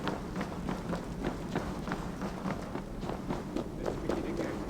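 Quick, rhythmic footsteps of people running in Assassin's Creed Valhalla, a steady run of soft thuds at moderate distance against a constant background bed.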